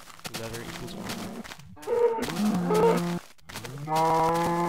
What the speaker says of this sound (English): Cows. Cows for leather.